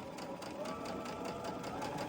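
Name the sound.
sewing machine sewing fabric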